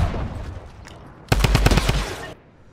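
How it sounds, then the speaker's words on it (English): Gunfire in the video game Fortnite: a sudden rapid burst of shots lasting about a second, heard over a steady background of game noise. "he's being shot at by a third party"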